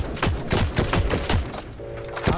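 Gunfire in the Heroes and Generals video game comes as a rapid, loud volley of close shots, about a dozen sharp thumping bursts in quick rhythm with a brief lull near the end.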